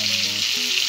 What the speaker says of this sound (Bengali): প্রথমে আমি মাছগুলোকে ভেজে নেব।